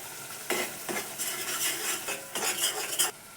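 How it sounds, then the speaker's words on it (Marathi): Masala sautéing in oil in a kadhai, a loud sizzle broken by repeated bursts of spatula scraping and clanking against the metal pan, close and rhythmic, with no speech. "आता याला तेल सुटेपर्यंत परतून घेऊ"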